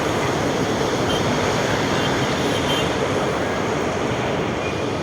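A steady, loud rumble of a light rail train passing an LRT station in Ermita, Manila, fills the whole stretch, broad and continuous with no pauses.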